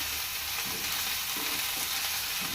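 Onions fried to golden sizzle steadily in a hot pan, a constant frying hiss broken by a few soft stirring scrapes. No one speaks.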